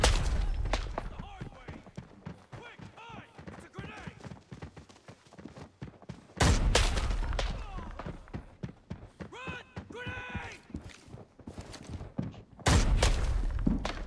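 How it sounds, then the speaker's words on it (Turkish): Explosions and gunfire from grenades in the shooter game Arena Breakout, with two loud blasts at mid-clip and near the end between bursts of shots, mixed with talk and in-game chatter. "Birbirlerini bombalıyorlar."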